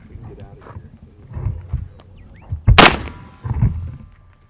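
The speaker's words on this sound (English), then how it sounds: "we're just shooting to get some velocity for the 35 grain" A single loud rifle shot cracks out midway, firing a 35-grain zinc bullet load with IMR 4198 powder, followed by a short echo; soft thuds and movement sounds occur before and after.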